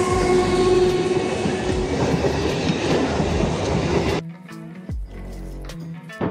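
A passing train runs on its rails with a loud, steady rumble and clatter for about four seconds, then drops to quieter, sparser rail noises.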